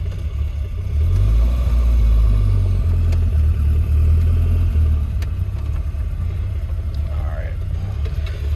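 A 1984 Volvo 240 engine rumbling low and close as the car creeps forward, a steady deep drone that swells slightly early on and holds, with faint rattles and no clear speech over it.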